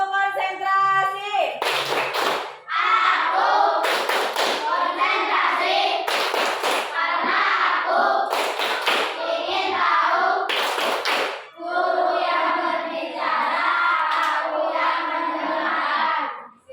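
A classroom of children performs a rhythmic concentration clapping routine, sharp grouped hand claps repeating in a steady pattern, alternating with the group chanting loudly in unison.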